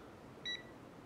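An Aneng 8009 multimeter gives one short, clear continuity beep in a quiet room, with no other sound around it.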